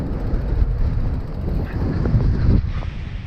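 Wind buffeting the microphone while riding a gravel bike along UK byways and bridleways, a steady low rumbling roar with gusty swells and no talk.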